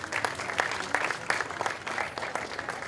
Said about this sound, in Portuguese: Ok, palmas pra vocês.